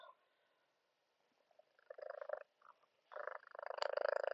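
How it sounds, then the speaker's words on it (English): A cat purrs close by in rumbling bursts, quiet at first and then swelling into louder, steady pulses with no talking. "sorry if you heard my cat purring"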